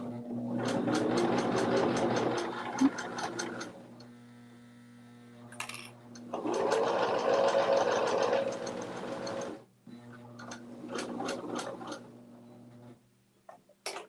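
A sewing machine stitches through the thick part of a fabric project in two long runs, with quieter pauses between them and a few short bursts near the end, all over a steady mains hum.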